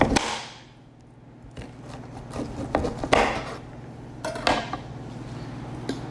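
A knife chops an ear of corn on the cob into chunks on a cutting board for a seafood boil, with about six separate firm, close thuds at uneven intervals and no talking.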